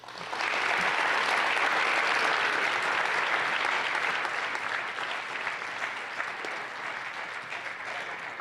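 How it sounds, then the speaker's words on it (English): An audience at a National Honor Society induction ceremony breaks into sustained, loud applause for the new members. It holds steady for several seconds before easing slightly toward the end. "let's all just give one more round of applause to congratulate these new members"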